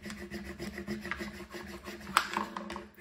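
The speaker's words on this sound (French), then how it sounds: "je prends ma petite raclette et je racle bien fort." A small scraper is rubbed hard across vinyl on a crafting surface, producing steady scratchy rasping strokes at close range with a sharper scrape near the end, without any talk.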